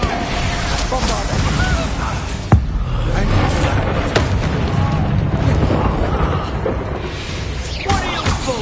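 A Bombarda spell explodes in the Hogwarts Legacy video game: a sudden boom with a sharp crack amid ongoing combat noise and whooshes, close and loud, with a voice calling out around it.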